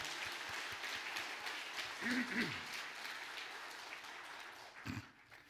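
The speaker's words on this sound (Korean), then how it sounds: "세례 받으신 그분들 다시 한번 큰 박수로 축하하고 축복하겠습니다." A church congregation at a Christmas service claps for newly baptized members, a moderate sustained patter of applause with brief voices rising over it.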